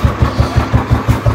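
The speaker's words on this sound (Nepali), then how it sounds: "अब म बाइक स्टार्ट गर्दैछु" A motorbike engine turning over on a trek trip, a steady loud rhythmic low chug with evenly spaced pulses close by, like a starter cranking or the engine just catching into idle.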